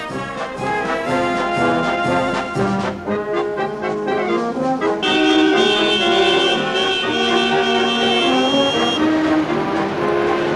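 1977 Paris street traffic, with repeated car horns honking and tooting over a dense rumble of passing vehicles, loud and continuous.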